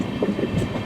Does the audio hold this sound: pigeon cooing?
no